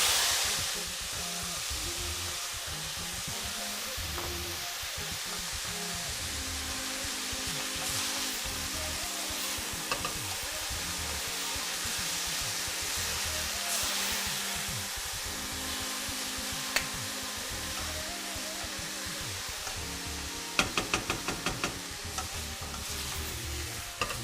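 Chopped coriander and fenugreek frying in a pan for qaliyeh maahi make a constant close sizzle. Repeated stirring scrapes run through it, with a few clinks near the end and no voices.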